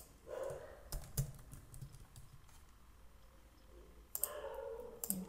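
Computer mouse clicks and keyboard typing, made up of scattered sharp clicks and short bursts of key taps, close and quiet, with no talking.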